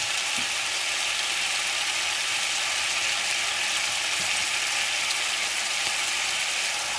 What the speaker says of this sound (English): The beauty of frying the fish for a little bit is that the fish is going to look pretty.